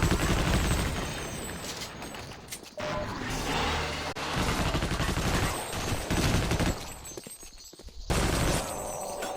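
Dense, continuous gunfire in the Sven Co-op video game, bursts of rapid shots and explosive blasts filling the mix with brief gaps, loud and close throughout.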